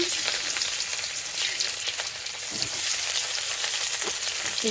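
Rohu fish fries in a hot pan with steady, loud sizzling and crackling throughout, with no talking.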